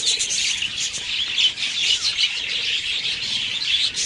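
Budgerigars and java sparrows in an aviary colony chirp and tweet continuously, a dense overlapping chorus of high calls from many birds close by, with no talking.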